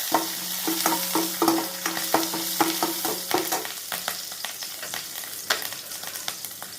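Green chilies, curry leaves and mustard seeds crackle and sizzle in hot oil as a spatula stirs them, sending rapid rhythmic scrapes and taps against the pan at first, then looser clatter over continuous frying hiss, close up and without talk.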